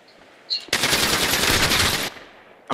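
A rapid burst of gunfire rattles loud and close for about a second and a half, a continuous string of shots like automatic fire, preceded by a faint brief sound.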